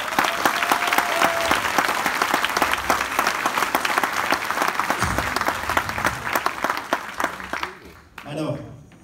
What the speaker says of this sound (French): Vous pouvez vraiment vous applaudir.